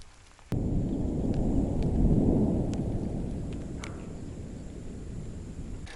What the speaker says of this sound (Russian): О, там гремит прямо неплохо так.